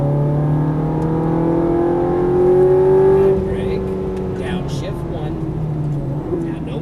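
A sports car on a track, either a Ferrari F430 or a Nissan GT-R, revs up with a rising engine tone, then the pitch drops as it shifts gear. A voice talks over the steady engine throughout.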